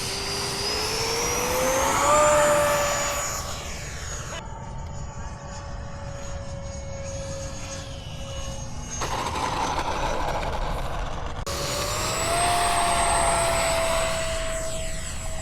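An electric RC model airplane flying at a field in the rain, its motor whining steadily with a pulsating tone and shifting pitch as it passes, moderately loud and continuous, with faint talk.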